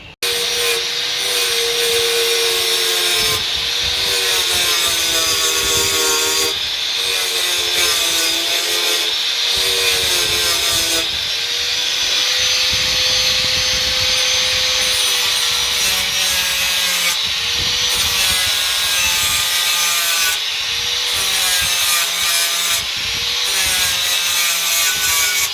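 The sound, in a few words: grinding off welds on Mk2 Escort floor with flat wheel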